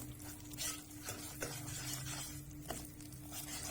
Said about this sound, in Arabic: كده هفضل اقلب فيه لحد ما يتحمر معايا شويه